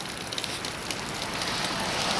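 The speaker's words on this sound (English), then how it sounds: "you can hear the water just pouring off the garage there" Rain and runoff pouring off a portable garage during a windy Canadian storm make a steady, close, dense hiss with no voices over it.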